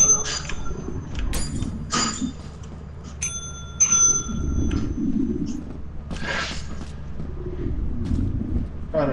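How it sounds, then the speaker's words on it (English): In the video game Lethal Company, a bell rings several times with short, bright metallic tones. The strikes are spaced irregularly among muffled game noise and faint talk. "Who's gonna ring the bell this time?"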